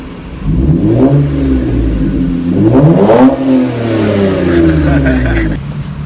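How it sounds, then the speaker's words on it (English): A Lexus IS300 engine revs up close, rising and falling in pitch twice with a loud, throaty drone that lingers at idle between pulls, while people talk over it. "Give it a little rev."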